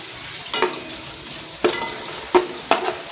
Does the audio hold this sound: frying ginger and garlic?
yes